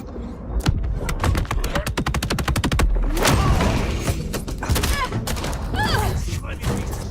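Rapid bursts of gunfire in the video game Vampire: The Masquerade – Bloodlines 2, dense repeated shots and thuds at close range over continuous game noise, with a voice speaking over part of it.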